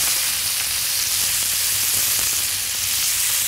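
Herring fillets frying in a pan, with a loud, continuous close sizzle and light crackle throughout, no voices.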